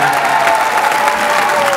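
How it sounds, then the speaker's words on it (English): Audience applause at a high school orchestra concert, a dense, steady clatter of many hands clapping, close and loud throughout with no pauses. "how about a round of applause for first Josh Estocks on bassoon"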